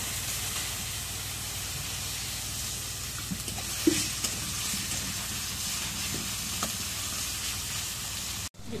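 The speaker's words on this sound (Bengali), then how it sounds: "এখন কড়াইয়ের মধ্যে তেল দিই।" Oil heats in a kadai (wok), producing a continuous hiss and sizzle with a few small clicks and pops throughout, steady and close.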